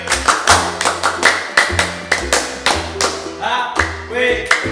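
A classroom audience chants and claps a rhythmic 'tepuk hawe' cheer during a rope-craft lesson, with sharp repeated claps in a steady group pattern mixed with shouted syllables.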